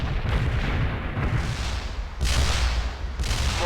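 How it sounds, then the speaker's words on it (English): A mortar barrage in the video game World in Conflict pounds with loud, dense rumbling blasts in overlapping waves, the impacts swelling and dipping over several seconds with no speech. "Mortar barrage delivered."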